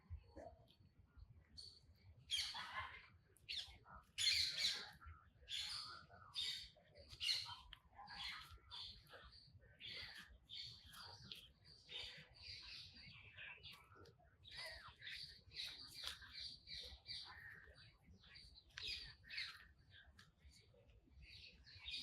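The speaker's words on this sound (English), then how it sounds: "Listen to the sound of the birds." Several birds chirp and twitter in quick, overlapping bursts against a quiet background, faint and continuous throughout.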